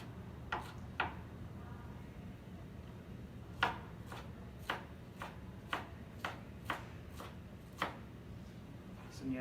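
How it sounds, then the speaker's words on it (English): A knife cuts green pepper into julienne matchsticks on a board, giving about a dozen crisp, fairly close chops at an uneven, unhurried pace over a low background hum. "Just come through and make little, what we call julienne. They're just little finger or match cut sticks of green pepper."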